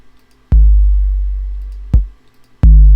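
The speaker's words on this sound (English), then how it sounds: "I'm going to load up a nice juicy 808 kick" Three deep, booming 808 kick drum hits played from the Ultrabeat synthesizer, each a sharp click followed by a long, sustained low tone, played alone at an uneven pace.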